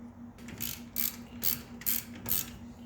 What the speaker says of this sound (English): Click, click. Torque to perfection.